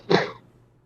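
A single sharp sneeze bursts out close and loud during a sports podcast, then fades quickly into quiet room tone.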